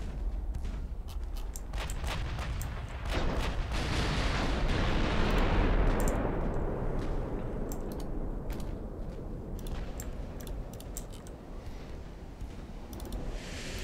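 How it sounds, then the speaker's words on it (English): Ultimate Admiral Dreadnoughts naval battle: a rapid string of gun blasts gives way to a long, heavy rumbling roar of a warship exploding and burning, loud and sustained with scattered sharp cracks over it. "A massive explosion. Took out pretty much the entire ship from here aft."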